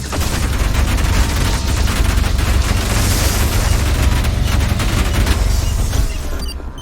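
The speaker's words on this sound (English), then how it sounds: "Yeah, we're going full Quake here with this nail gun." Nail gun firing in the ULTRAKILL first-person shooter, a dense, loud, continuous stream of rapid metallic shots over booming low rumble, with no voice.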